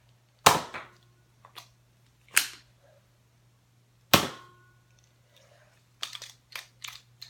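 A spring-action Nerf blaster firing foam darts, three sharp snapping shots spaced a couple of seconds apart, each with a short rattling tail, followed by a cluster of faint clicks, heard close against a quiet low hum.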